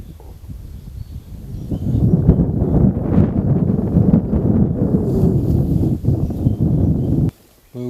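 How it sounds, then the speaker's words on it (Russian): Wind gusts outdoors by a river during a rainy storm, a loud rumbling rush buffeting the microphone for several seconds before dropping off suddenly. "Поднимается ветер"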